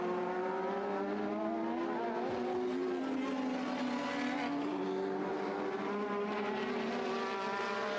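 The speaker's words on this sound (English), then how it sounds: "Alboreto was on fire that day and squeezes through for the overtake on Andrea de Tezeris." 1980s Formula 1 race cars screaming past in an overtaking move, several high-revving engines layered with pitch shifting up and down, loud and continuous with no talk.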